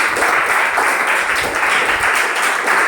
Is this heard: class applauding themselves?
yes